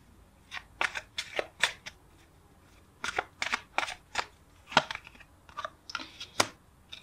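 Tarot cards being shuffled and handled, heard as bursts of crisp riffling and flicking snaps in quick clusters, close and fairly quiet, with short pauses between.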